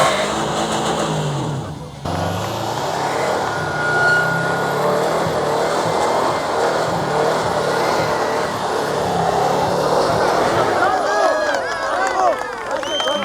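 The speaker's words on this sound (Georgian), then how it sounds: "აი ხო პროსტა ტყილად უბრალოდ საბურავებს წვავს რა" An old Subaru Forester spinning its tires off-road in a survival-style off-road contest, the engine revving and straining loudly up close alongside crowd noise and voices, with a brief cut near the start.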